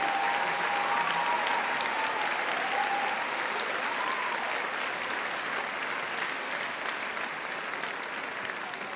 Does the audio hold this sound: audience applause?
yes